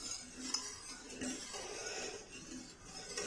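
A spoon stirs a thickening mixture of Marie biscuits in a pan on a stovetop flame, giving soft, faint scraping and light clinks over a low background hiss, with no voices.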